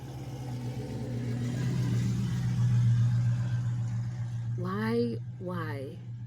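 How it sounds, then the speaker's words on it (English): A car engine rumbles loudly with a deep, steady exhaust drone that swells and eases, then a person starts talking near the end. "do you want your vehicle to have such a loud exhaust?"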